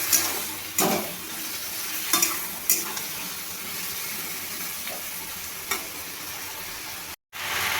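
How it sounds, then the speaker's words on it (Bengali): Vegetables cooked down with a ginger, tomato and green chili paste sizzle steadily in a pan, interrupted by occasional sharp scrapes and stirs of a spatula, close and even with no speech. "এবার আমি সবজিটাকে আবার ভালোভাবে কষিয়ে নেব।"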